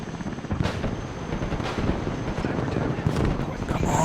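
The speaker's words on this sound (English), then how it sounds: "the choppers are here." Military helicopters arrive in the war video game Broken Arrow, a dense, rumbling rotor and engine roar mixed with gunfire-like thumps and battle noise, continuous and loud throughout.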